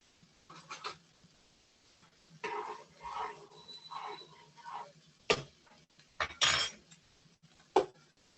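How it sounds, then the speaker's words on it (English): Brown rice gets stirred in a pot with a utensil, giving scattered light clinks and scraping scrapes in irregular bursts, fairly quiet and close, with a few sharper knocks near the end. "So I'm going to give this rice a quick stir."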